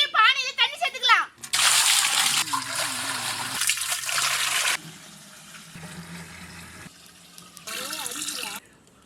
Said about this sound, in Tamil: சுண்டக்கஞ்சிக்கு பானையில தண்ணி சேர்த்துக்கலாம்